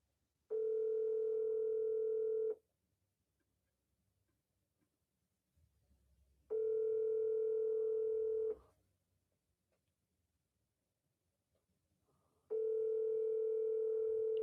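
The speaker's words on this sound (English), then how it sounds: "Can't get him to pick up the phone." A telephone call rings out unanswered: three steady electronic ringback tones, each about two seconds long with four-second gaps, clear and close with no talking.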